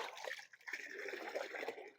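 An organic fertilizer solution pours from a small container into a bucket of water, giving a soft, continuous trickling splash at close range for about two seconds.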